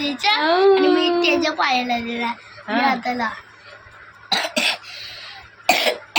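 A baby gives a few short, sharp coughs from a cough after an adult talks, the coughs coming in separate bursts near the end.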